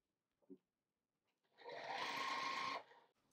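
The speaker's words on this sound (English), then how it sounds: "So I'm gonna sew two sets of them together." A sewing machine stitches batik fabric squares together for a quilt, a short burst of rapid mechanical whirring just over a second long after a faint tap, fairly quiet in an otherwise still room.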